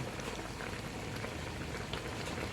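Cooking pot of food with a splash of vinegar added, boiling on the stove: a dense, steady bubbling and hissing simmer, close and continuous with no pauses and no voices over it.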